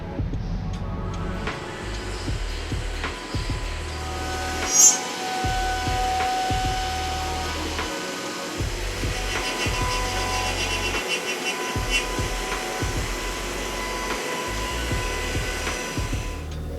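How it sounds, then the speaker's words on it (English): A state-of-the-art robotic CNC mill machining aluminum bodies for joiner's combination squares gives a steady, continuous whine and hum, with faint clinks and a brief sharper accent partway through, heard alone without talk. "The aluminum body of the squares are milled with one of our state-of-the-art robots."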